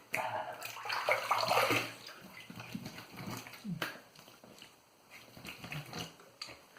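Water runs and splashes as someone rinses their face after a shave, with uneven bursts of splashing and dripping over several seconds, loudest near the start.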